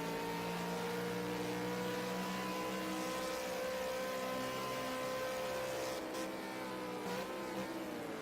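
Race cars roar down a straight at Ruapuna Park during a GP 150 race, a loud, steady engine drone with layered tones that shifts pitch near the end as the cars pass.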